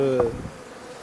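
Honey bees buzz near a hive after a swarm, a close droning hum that fades within a moment into quieter background noise.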